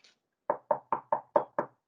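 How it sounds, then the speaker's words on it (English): Six firm knocks on a door in an even, fairly quick rhythm, close and distinct, each a short hollow thud with nothing else sounding around them. "Knock, knock. It was the door again."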